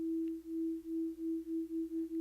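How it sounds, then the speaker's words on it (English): Two sine wave oscillators in a Cloud Generator synth play one steady, soft tone, with a gentle pulsing beat that speeds up as they spread apart in pitch. "So right now we will have 2 oscillators playing one sound, sine wave."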